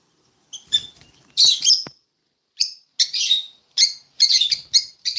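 A pet bird chirps close and loud in a string of sharp, bright bursts with short pauses between them, with no talking.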